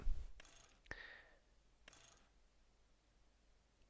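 Repair of a John Deere tractor in Farming Simulator 25 plays as a few quick mechanical clicks and ratcheting clanks, a sharp metallic tick near the start followed by a softer whirr, faint and brief against near silence.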